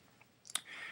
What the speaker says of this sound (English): I can do the same thing by clicking on this